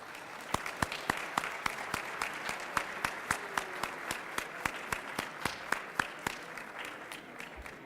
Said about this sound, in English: please join me in giving a warm round of applause to the Phoenix Boys Choir